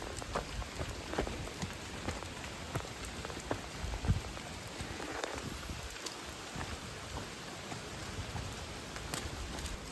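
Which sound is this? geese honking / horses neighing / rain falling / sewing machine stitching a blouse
rain falling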